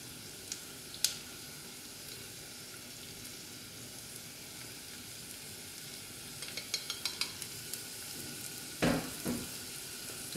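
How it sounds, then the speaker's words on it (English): Onions and garlic sizzle in a frying pan for baked zucchini, a steady soft crackling hiss throughout with a few clinks and scrapes of stirring near the end, no talk. "Then I'm going to just quickly add the onions as well."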